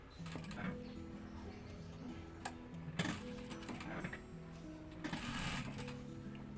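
A sewing machine stitches turned-under piping along a blouse neckline, running in steady mechanical bursts with brief pauses and a few louder clunks, close and continuous throughout.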